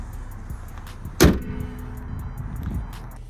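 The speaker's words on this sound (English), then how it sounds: "I'm gonna go in my car real quick, because it's a little bit windy outside." A RAM pickup truck's door slams shut with one loud, close thud, followed by a muffled, steady interior hum and faint wind noise from outside.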